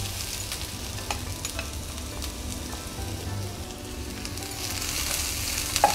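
Shredded cabbage and mixed vegetables frying and being stirred in a pan over a medium-low flame, giving a steady soft sizzle with light crackle throughout, close and alone with no voices.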